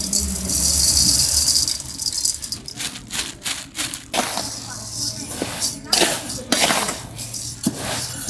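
Basmati rice and masoor dal being mixed and washed together in a metal pot, heard as close, busy rattling of grains with clinks and knocks against the pot sides in uneven bursts.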